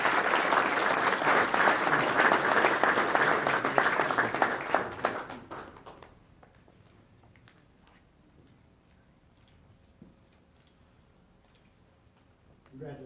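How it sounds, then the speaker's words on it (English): Audience applause at a Menifee city council meeting after a citizen award, dense and loud for about six seconds, then fading to a quiet room with a few scattered sounds. "How about another round of applause?"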